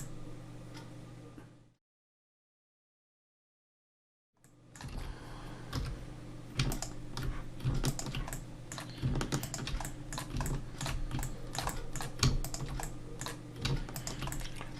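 Computer keyboard shortcuts are pressed while modelling in Blender, heard as close, crisp key clicks that start again after a short silence and continue as rapid, irregular taps with no talking.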